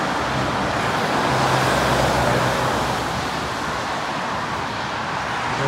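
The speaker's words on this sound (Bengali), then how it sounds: "এটা হচ্ছে হাইওয়ে" Steady roar of highway traffic in Australia, a continuous broadband wash of passing vehicles, loud and unbroken throughout with no voices.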